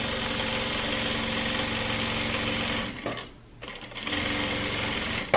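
A sewing machine runs a steady fast stitch on a French seam in a trapeze dress, pausing briefly in the middle before resuming, while someone talks over it.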